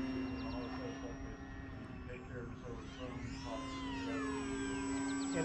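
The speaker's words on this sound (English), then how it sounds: "Make the plane go up." An FMS Ranger 1800mm Cessna RC model plane flies with a steady electric-motor whine and buzz, its pitch sweeping as it passes overhead, while people talk nearby.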